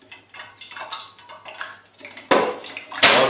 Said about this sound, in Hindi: अभी हम इनको दोबारा जो दूसरी दफ़ा हमने फ्राई किए हैं इनको फिर अभी पानी में डिप करेंगे